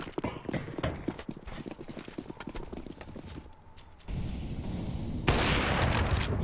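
Rapid pistol gunfire on Nuke in Counter-Strike: Global Offensive, a quick run of sharp close shots, then louder sustained noise, with a commentator talking over it.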